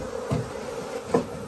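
Cavity-nesting honey bees swarm around an opened hive, giving a steady close buzzing drone with a couple of louder passes near the microphone.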